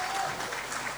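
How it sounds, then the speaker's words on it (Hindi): An audience claps during a talk on a scholarship trip to museums and galleries in Rome and Paris, giving one second of steady, dense applause at moderate volume. "थोड़ा मोटिवेट करने के लिए तालियां तो होनी चाहिए हल्की।"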